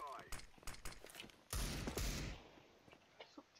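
Gunfire in Counter-Strike: Global Offensive, a series of sharp single shots followed by a louder burst of impacts, fairly faint, with talk running over them.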